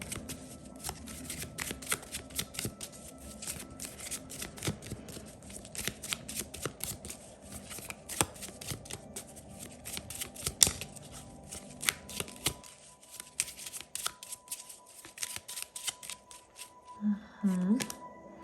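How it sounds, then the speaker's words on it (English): Tarot cards riffle and shuffle in repeated crisp bursts for a long stretch, close up, followed by a quieter pause and a brief murmur near the end. "Let me give it a good shuffle."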